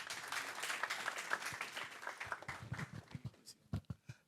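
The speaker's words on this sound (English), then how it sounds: "A round of applause." Audience applause welcoming a speaker at a currency conference on Africa's single common currency, a quiet dense patter that thins out into a few scattered, distinct claps at the end.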